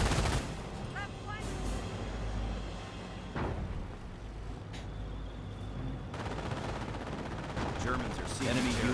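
Bursts of machine gun fire and scattered gunshots from a Company of Heroes battle, moderately loud and repeated across the scene, mixed with mechanical rumble and someone talking over it.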